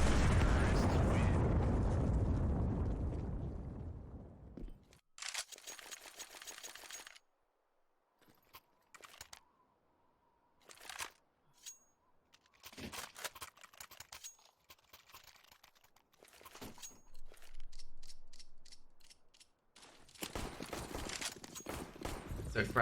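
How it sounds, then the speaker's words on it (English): Frag grenade blasts and flashbang bangs from a Counter-Strike: Global Offensive match on Nuke, with a loud explosion rumble at the start followed by scattered sharp bursts and gunfire under a commentator's talk. "So frag grenades and flashbangs being thrown in."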